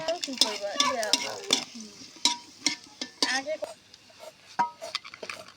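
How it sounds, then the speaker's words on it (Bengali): Dried chillies and garlic frying in oil in a wok, with a light sizzle under repeated sharp metal clinks and scrapes of a spatula against the pan in an uneven rhythm. "তারপর কিছু শুকনো মরিচ আর রসুন অন্য একটি কড়াইয়ে তেল দিয়ে ভেজে নেব"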